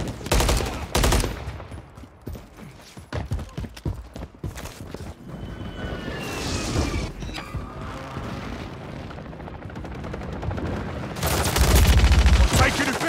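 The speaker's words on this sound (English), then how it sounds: "Friendly precision airstrike inbound." Gunfire and a precision airstrike in the video game Call of Duty: Modern Warfare 3, with loud bursts of shots and blasts that come in clusters and are followed by a heavy, sustained rumble near the end.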